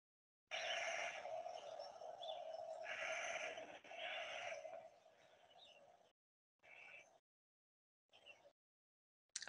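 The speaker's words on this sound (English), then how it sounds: "this bird is the Clark's Nutcracker, and you will hear them squawking away like this if you're in a whitebark and limber pine stand." A Clark's Nutcracker squawks in a whitebark and limber pine stand, giving harsh, grating calls at a distance, quiet and a little rough, first in a longer stretch and then in a few short bursts separated by silence.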